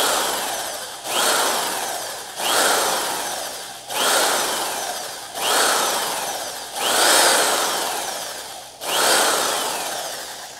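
Rhythmic rubbing strokes polish the metal cylinder of an air rifle, six long swishing passes in a steady cycle, each swelling and then fading, close and fairly loud with no talking.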